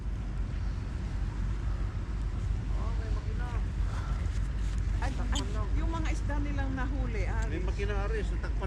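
A boat motor runs steadily on Sylvan Lake, a constant low drone mixed with wind noise while several people talk and call out over it.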